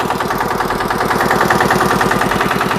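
A Kubota KRT140 Plus walking tractor's water-cooled engine idles steadily up close with a fast, even chugging throb, loud and continuous with no voices.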